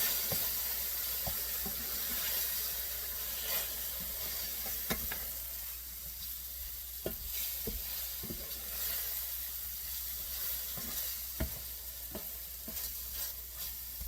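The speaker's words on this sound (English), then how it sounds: "Then I'm going to start mixing this up." Mushroom, onion and okra mixture stirred in a cast iron pan, with steady sizzling frying and repeated scraping clicks of the utensil against the iron, close and continuous with no talking.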